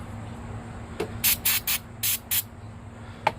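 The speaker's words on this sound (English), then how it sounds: "I'm using some B12 Chem Tool throttle body cleaner. And what I'm doing is I'm spraying some on my rag." Several short hissing sprays from an aerosol can of B12 Chemtool throttle body cleaner onto a rag, quick bursts in a row, close by, with a faint thud just before and a brief tick afterward.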